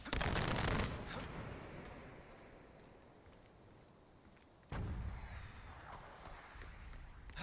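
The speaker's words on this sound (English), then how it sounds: "Mortar atıldı." Mortar fire in Far Cry 4: a loud blast opens, its rumble decaying over several seconds, then a second sharp explosion hits with a lingering roar of debris.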